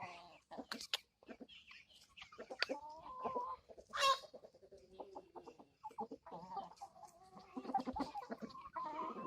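A flock of chickens clucks and squawks close by, with repeated short calls and busy chatter that rises and falls, plus one louder squawk in the middle.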